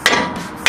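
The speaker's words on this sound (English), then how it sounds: "just hammer this shit out" A hammer strikes a steering part twice, sharp metallic blows with a ringing decay between them, close and loud.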